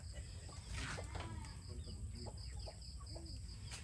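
Chickens clucking in their coops on a rural farm, scattered short clucks and calls at moderate distance over a low background hum, with faint talk nearby.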